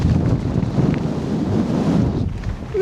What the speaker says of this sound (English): Talk about windy